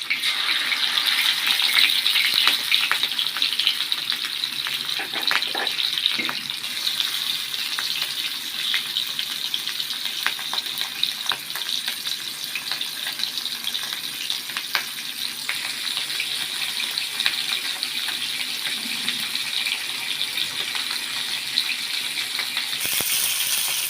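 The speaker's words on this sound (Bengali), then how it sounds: "মাছগুলো ভেজে নেওয়া হচ্ছে।" Pieces of catla fish frying in hot oil produce a steady, dense crackling sizzle that runs unbroken throughout, close and fairly loud, with an occasional faint clink.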